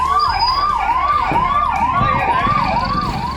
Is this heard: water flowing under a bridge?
no